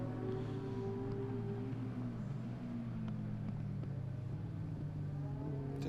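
A motorbike-engined race car takes a corner at Mondello Park, its engine a fairly distant, sustained drone that rises and falls in pitch through the bend.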